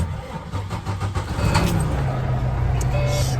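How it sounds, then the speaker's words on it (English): A semi truck's diesel engine cranks and starts up, a loud close rumble that settles into a steady idle, with faint voices around it. "let's get the truck cranked up."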